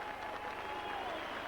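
A crowd at a St Helens versus Widnes rugby league friendly applauds a try, a faint, distant wash of steady clapping throughout.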